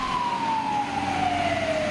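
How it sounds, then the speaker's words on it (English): A fire truck siren wails steadily in Madrid, its single tone sliding slowly downward as the vehicle passes, loud and continuous over road noise. "Wow, really cool fire truck"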